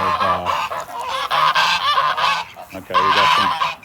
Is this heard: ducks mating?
yes